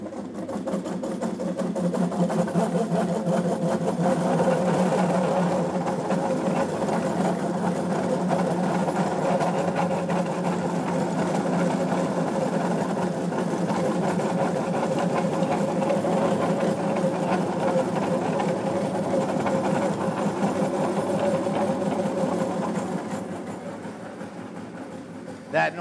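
A refrigerated barrel machine runs with its gas not yet released from the barrel, making a steady, loud mechanical drone and hum that holds evenly for about 25 seconds before easing slightly at the end.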